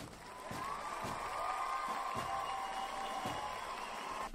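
A recorded sound clip of a crowd cheering and applauding with whistles rising above, a fairly quiet, continuous roar of voices with scattered clapping that holds steady.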